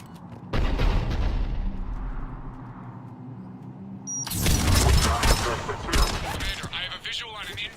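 Heavy cannon fire in the sci-fi video game Mass Effect 3 pounds out as loud, deep booms and crackling bursts of gunfire, with the barrage swelling sharply halfway through.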